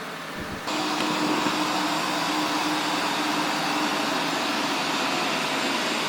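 A realme TechLife robot vacuum cleaner switches on and runs with a steady, close whooshing hum that holds level to the end.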